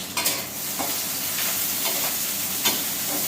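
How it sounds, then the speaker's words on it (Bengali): Onion, garlic and dried chili frying in a home kitchen pan, a steady broadband sizzle with a few brief stirring scrapes, close and moderately loud with no talking. "এদিক দিয়ে পেঁয়াজটা ভাজা হোক।"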